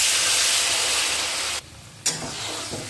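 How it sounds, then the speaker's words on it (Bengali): Hot water poured into a pan of fried spices, chilli and turmeric for a fish and green tomato curry, a loud rushing hiss that drops away abruptly, then a brief sharp burst of sizzle and a quieter bubbling. "এবার গরম জল ঢেলে দেব।"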